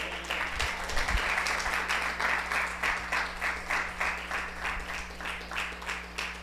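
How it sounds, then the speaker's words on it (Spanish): Church congregation applauding together, a dense wash of many hands with a steady pulsing rhythm, fairly loud and close, over a low steady hum, with no talk for the full stretch. "Denle un aplauso al Señor por eso."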